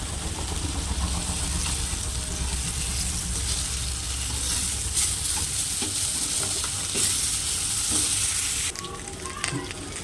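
Taro stolons (kochur lati) fry in a pan with a loud, dense, steady sizzle and busy stirring scrapes up close, and the hiss drops away sharply near the end.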